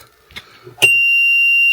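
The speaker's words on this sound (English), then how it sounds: "buzzer" A vehicle's reverse buzzer: a sharp click, then a steady, loud, high-pitched continuous buzzer tone that holds without a break.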